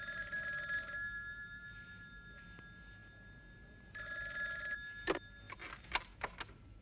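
An old-style telephone bell rings in two bursts separated by a pause, followed by several short clicks and knocks as the handset is picked up, fairly quiet in an indoor room with no speech.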